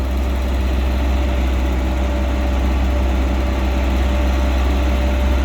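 A steady, low Mitsubishi four-cylinder diesel engine idling close by, a constant rumble with an even mechanical hum and no other sounds.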